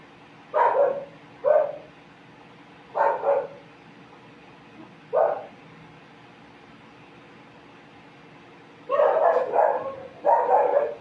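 Dogs bark in short bursts, a few scattered single barks and then a rapid cluster of overlapping barking near the end, fairly close, with no talking.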